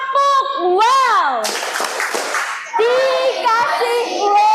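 Children chant 'tepuk wow' together in a classroom, sung voices rising and falling, broken by a short burst of loud clapping in the middle before the chanting resumes.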